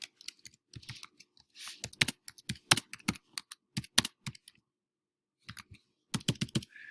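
Rapid typing on a computer keyboard, close and crisp, with irregular bursts of key clicks separated by short pauses and a longer gap before a final flurry.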